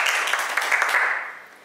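A classroom group applauds after a presentation, a short burst of many hands clapping that fades out within about a second and a half.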